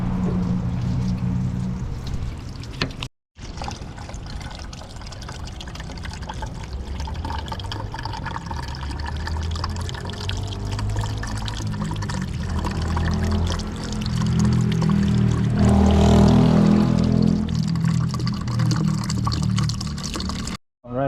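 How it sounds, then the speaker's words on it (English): Water pours steadily into the radiator of a Chevy S10 with a 2.2L engine during water pump and clutch fan work, a close, continuous splashing fill that swells louder near the end, with a brief pause early on. "I'm gonna fill it with water"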